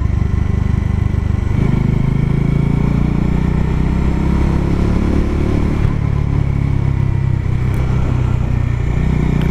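Loud, continuous engine drone of a Bajaj Dominar 400 motorcycle riding along, steady throughout with slight shifts in pitch and rattling.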